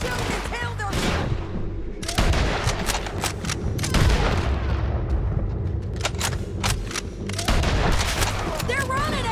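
Gunfire rattles almost nonstop through a bounty-hunter shootout in Red Dead Redemption 2. Sharp shots and volleys come close together over a steady background din.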